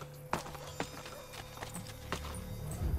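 Horse hooves clip-clopping in the video game Assassin's Creed Brotherhood, a few distinct, spaced hoof strikes close by, followed by a louder rush of game sound at the end.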